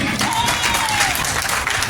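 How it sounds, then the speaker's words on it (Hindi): An audience at an Indian community honors ceremony claps in a dense, continuous burst of applause, loud and close, briefly overlapping a speaker's amplified voice. "अब आप सबकी तालियां मुझे चाहिए।"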